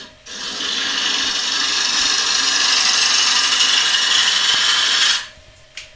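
Wood lathe cutting a thin-walled bowl, shavings flying off, as a close, steady high-pitched scraping whir that holds for about five seconds, then stops abruptly, with no speech.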